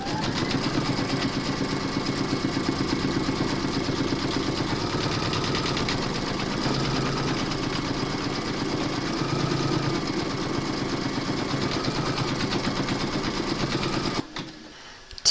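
An embroidery sewing machine stitches quilting on in-the-hoop bunny slippers with a steady, rapid mechanical whir and needle chatter that runs without a break for about fourteen seconds, then stops abruptly.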